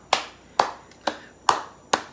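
Five sharp hand claps ring out alone at an even pace, each snapping close and loud with a brief room tail, spaced about half a second apart.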